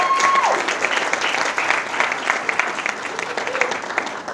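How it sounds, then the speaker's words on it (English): Audience applause at a summer jobs program awards ceremony honoring participants, a steady wash of clapping across the whole stretch with a brief tone at the start. "I want you guys to just give yourself another round of applause"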